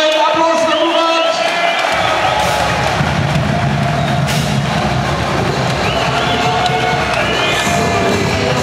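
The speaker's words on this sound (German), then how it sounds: "Applaus für Murat." The crowd at a first-division German wrestling match cheers and applauds in a loud, dense roar after a bout, with shouts and voices rising through the noise.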